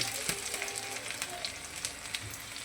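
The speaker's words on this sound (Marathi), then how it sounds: "नंतर कडकडीत तेल झाले की त्यात आपण अद्रक टाकायची" Ginger dropped into hot oil for a potato bhaji for dosa, a soft continuous sizzle with light crackles and faint clicks, quiet and close, no voices.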